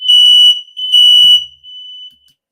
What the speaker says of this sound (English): That's a fire alarm in my house.